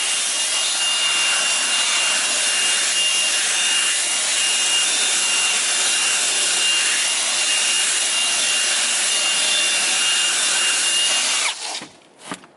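A steady, loud whine of a vacuum cleaner vacuuming a car seat runs without a break for several seconds, then cuts off abruptly near the end.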